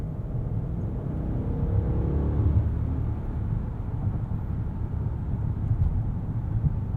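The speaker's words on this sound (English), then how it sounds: "I don't mind this 4-liter Biturbo V8. It is a fantastic powertrain. Makes a good noise." A 2021 Mercedes-Benz S580 4MATIC with its 4-liter biturbo V8 driving at night, a steady low engine and road rumble heard from inside the cabin, smooth and continuous with no talk.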